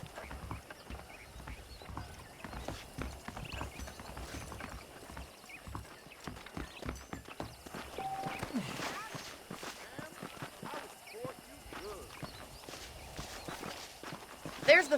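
Horse hooves clip-clop at a walking pace in the Red Dead Redemption video game, running steadily at moderate level beneath a man's ongoing dialogue and game ambience.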